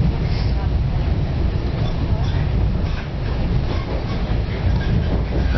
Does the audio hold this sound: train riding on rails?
yes